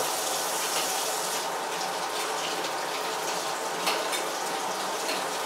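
Tap water runs steadily over a metal film developing tank, a continuous bright hissing splash at moderate level with no voices.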